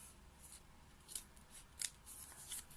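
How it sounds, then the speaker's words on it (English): Scissors snip through paper to cut out a craft design, faint crisp cuts at an uneven pace with a few sharper snips standing out over a quiet room background. "So we then cut it out"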